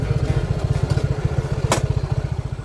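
A motorcycle engine idling up close, its rapid, regular putter throbbing steadily, with a brief sharp click midway.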